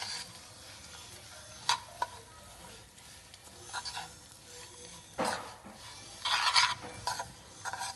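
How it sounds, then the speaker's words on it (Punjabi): A spoon stirs a home-remedy mixture for knee pain, made with water and jaggery, in a pan, giving soft scraping and clinking strokes at irregular intervals over a faint background. "ਇਹਨੂੰ ਚੰਗੀ ਤਰ੍ਹਾਂ ਹਿਲਾ ਲਓ ਆਪਾਂ"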